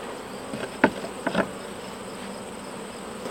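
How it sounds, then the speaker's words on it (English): Bees drone steadily around an open beehive as the keeper clears them off the top, a faint continuous buzz with a couple of brief sharp knocks from handling the hive. "I'm trying to get all the bees off of here, so that way when I go to close the top, I'm not squishing them."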